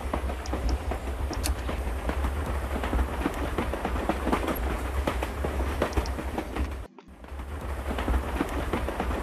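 A train runs steadily in the video game House of 1000 Doors, with continuous rumbling and rhythmic rail clatter and a low hum, broken by a brief dropout near the end before resuming.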